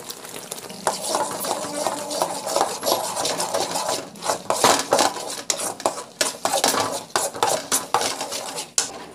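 Tomatoes sizzle in a pan while a utensil scrapes and stirs with irregular clanks against metal, close and fairly loud.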